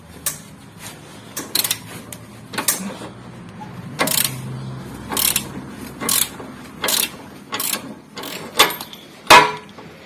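Bolts come out of the front strut on a Honda CR-V in a run of sharp ratchet clicks and metallic clanks. Brief bursts of tool noise are spaced by quiet gaps, close and fairly loud.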